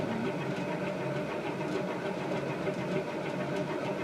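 An Emerson CF-28 two-blade antique ceiling fan from around 1900, wired straight to high, runs with a steady, even motor hum and a faint rhythmic whir, heard close and alone.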